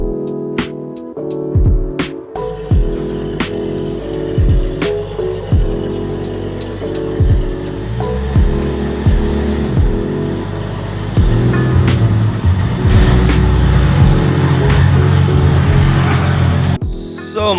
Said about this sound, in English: I'm gonna pull the Jeep into the garage here